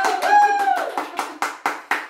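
A small group claps in a slow, even rhythm, about eight distinct claps in a row, with a brief whistling tone over the first few beats.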